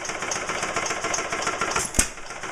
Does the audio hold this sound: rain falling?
no